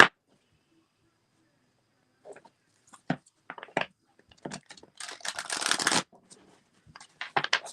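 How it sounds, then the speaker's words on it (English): Oracle cards being shuffled by hand in short rustling bursts, with a longer continuous riffle and several quick snaps, close and fairly quiet. "gotta shuffle these so that they're ready to go for the next time I need to use them"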